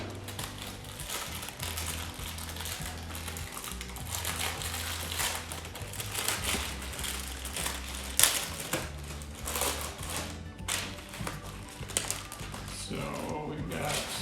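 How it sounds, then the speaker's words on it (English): Graham crackers crushed inside a plastic bag, a dense run of crackling, crunching and crinkling that continues steadily throughout, close by, with faint talk underneath. "We're going to put them into this plastic bag to crush them and break them up."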